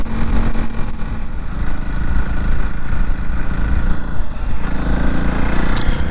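2021 Honda CRF300 Rally single-cylinder engine while riding at under 5,000 RPM, a loud steady buzzing drone mixed with wind rush, held throughout without speech.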